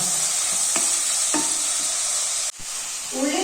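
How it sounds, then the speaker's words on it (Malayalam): Finely chopped large onions sautéing in hot oil, a steady close sizzle with a few stirring scrapes, a brief dip partway through, no voices. "ഒരു മൂന്ന് വലിയ സവോള പൊടിയായിട്ട് അരിഞ്ഞത് കൊടുക്കാം ഇത് നന്നായിട്ടൊന്ന് വഴന്ന് വന്നോട്ടെ"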